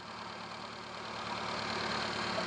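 A Hyundai Santro car engine idles steadily at close range, a smooth continuous hum that swells slightly louder toward the end, with no voices over it.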